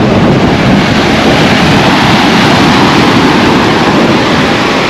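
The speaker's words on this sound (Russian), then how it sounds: "Ну и волны красивые. Ветер сильный" Storm surf on a Black Sea seafront crashes continuously while strong wind buffets the microphone, a loud, dense, unbroken roar with no voices.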